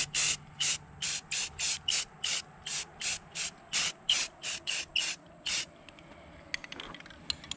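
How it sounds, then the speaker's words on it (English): Short bursts of spray paint in a darker walnut color hiss onto a pile of model habitat base pieces, about fifteen regular puffs in quick rhythm, close and fairly loud, then quieter handling. "there's a little bit of a darker walnut color that I'll spray this pile with here"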